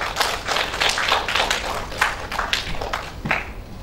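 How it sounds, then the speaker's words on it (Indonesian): Audience clapping at a webinar talk as a guest speaker is welcomed, a steady patter of claps from a smallish group, fairly close and continuous with uneven individual hits. "Kasih tepuk tangan, Pak."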